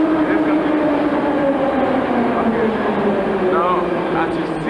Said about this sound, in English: Now, as you see, there comes the underground train.